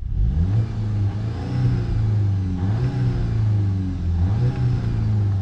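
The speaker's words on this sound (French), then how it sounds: "Quand tu la démarres en mode sport, voilà ce que ça donne de l'intérieur." A Volkswagen Golf 8 GTI with a particulate filter, started in sport mode and heard from inside the cabin, gives a steady low engine drone with a few gentle swells in pitch and no talking.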